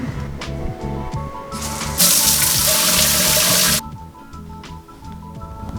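Hot shower water running steadily aboard a sailboat, a brief louder burst of spray in the middle, then a softer continuous flow.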